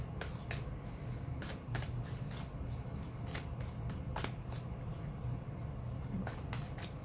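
Sacred Self-Care oracle card deck being shuffled by hand, a quick rhythmic run of crisp riffling card flicks close up, with no voices.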